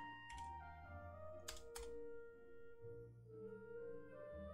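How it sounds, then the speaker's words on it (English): Keys clatter on a computer keyboard in short, quiet bursts of clicks and thunks, with a soft, sustained musical tone underneath and no talking. "Sorry, still typing these out."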